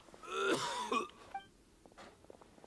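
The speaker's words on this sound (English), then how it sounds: "Why is he coughing so much?" A Genshin Impact character gives a strained, rasping cough with a wheezy, moaning tone, followed by a shorter hoarse catch and fainter breathy sounds; no speech.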